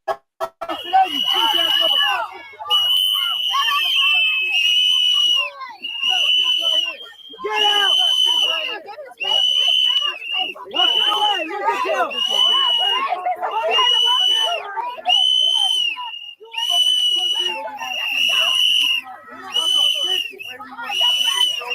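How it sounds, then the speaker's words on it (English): Shrill whistles blow in repeated bursts over several seconds amid a crowd, with shouting voices mixed between and under the piercing blasts. "What the hell them whistles gonna do?"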